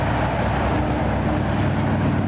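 A 27-horsepower Kawasaki V-twin engine on a 2006 John Deere lawn tractor runs steadily, a loud, even low rumble that holds constant throughout with no talk.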